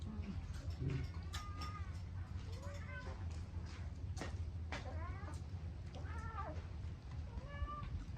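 A pet cat meows repeatedly in short, insistent calls at a household lunch, heard over steady background noise while people talk nearby.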